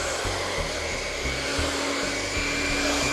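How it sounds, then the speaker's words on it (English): A hair dryer blow-drying a salon client's hair with a ceramic brush, a loud, close, steady whir and rush of air that holds constant throughout. "I'm going to go in and blow dry my client's hair just the way she wears her hair on a daily basis."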